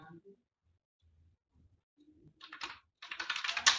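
Fingers type a command on a computer keyboard, a quick burst of close clicking keystrokes that grows busier toward the end, with faint speech near the start.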